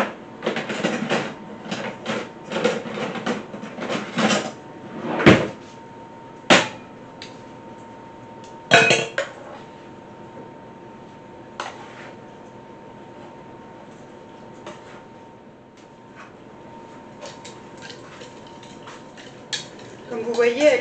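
Kitchen utensils and a larger spoon clattering against dishes and pots during home cooking, a burst of irregular clinks and knocks early on, then sparse taps over a low steady hum, closing with more clatter.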